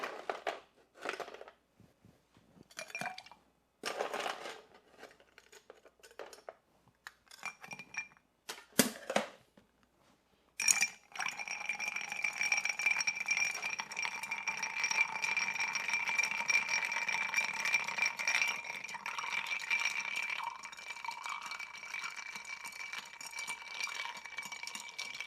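A cocktail of lemon juice and spirits is stirred in a mixing glass before ice goes in, with scattered clinks and taps early on, then a steady, close, continuous swirling rattle that carries on alone until the end.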